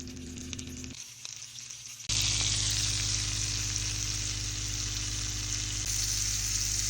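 Cajun-seasoned shrimp fry in a skillet, a quieter sizzle at first that suddenly bursts into a loud, steady, hissing crackle that continues close and alone.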